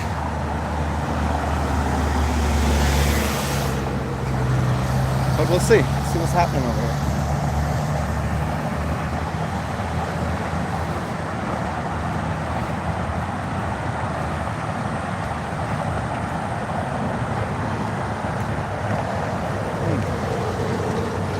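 Steady road traffic rumbles in the background throughout, with a vehicle passing early on, while a person talks over it nearby.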